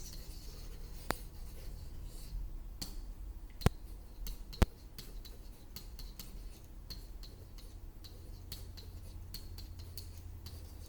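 Erasing on paper in a math lesson, a steady soft rubbing scrape running throughout with a few sharp ticks and taps, alone with no talk.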